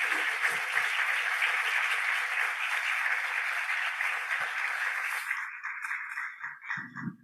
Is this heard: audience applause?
yes